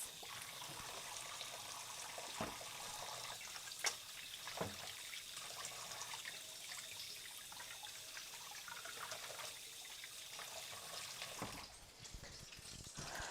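Water runs steadily from a tap while hands are washed beneath it, a soft continuous trickle and splash with a few small knocks and bumps against the sink.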